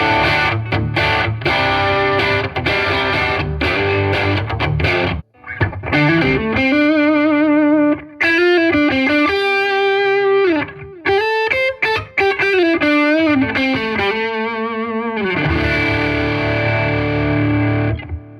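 Heavily distorted electric guitar on the bridge pickup, loud and alone: chugging chords, then sustained bending lead notes with brief gaps, ending on thick chords.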